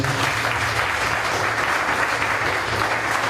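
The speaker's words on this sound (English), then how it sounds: "I want to give them a round of applause for being here." Audience applause at a live community event on mental health, a steady wash of clapping from many hands that holds evenly for the whole stretch without talk.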